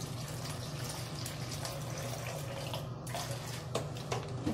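Water poured into a Ziploc bag holding two scoops of whey protein powder, a faint, steady trickling splash that runs alone over a low background hum.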